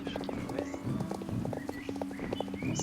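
Hooves of a horse clip-clopping at a steady trot in the Star Stable Online video game, a continuous rhythmic beat over game ambience with no talk.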